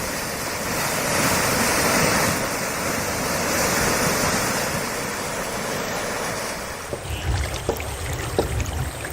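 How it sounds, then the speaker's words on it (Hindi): The Ghaghara river in flood in Gonda, Uttar Pradesh, spilling past its banks with a loud, steady, close roar of rushing water that eases near the end, where scattered knocks break through. "उधर गोंडा में घाघरा नदी तट पार कर बह रही है"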